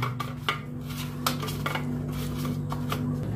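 Fish heads being worked by hand with salt and turmeric in a bowl, giving soft wet squelches and a few light clinks against the dish, with a steady low hum running underneath throughout.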